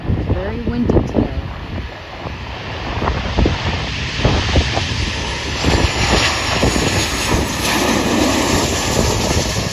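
A Southwest Airlines Boeing 737 MAX 8 bound for Denver at Dallas Love Field on a windy day, heard as a loud, steady broadband jet engine roar with wind buffeting the microphone and a voice at times.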